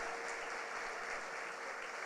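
Congregation applauding during a church service, a steady even wash of many hands clapping that holds at the same level throughout, with no voices standing out.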